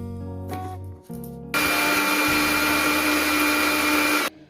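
An electric kitchen grinder whirs as it blends spices into a fine paste for a vegetable and fish curry, a steady loud high-pitched motor drone that starts abruptly after a few short pulses and cuts off at the end.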